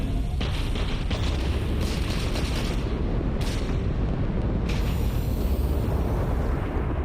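Missile explosions in the space game Starfield: a continuous, loud rumbling barrage of booms with several sharper blasts breaking through, sustained throughout without pause.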